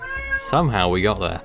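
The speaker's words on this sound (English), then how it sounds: "That was a cat" A cat meows loudly and nearby in a long, wavering cry at the same moment a person is talking, with a shorter meow just before it.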